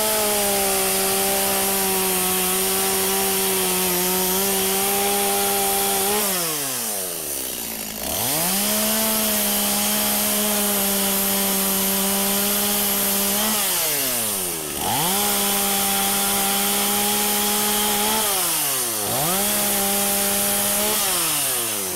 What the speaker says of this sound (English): You can see I'm going to be using the MS-250, trim these off and start shaping the top